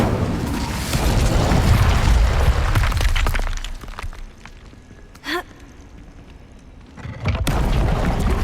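A fire spell, Incendio, bursts in the Hogwarts Legacy game amid dense, booming battle effects, then things fall quiet before a short whoosh and a renewed roar of flames and impacts near the end.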